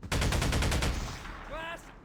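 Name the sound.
gun firing in video game Halo CE XAM mod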